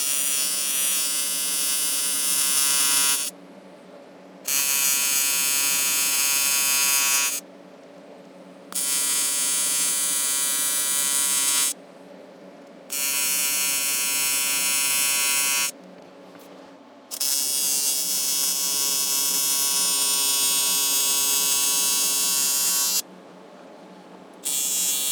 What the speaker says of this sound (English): I'm just going to go ahead and weld that up.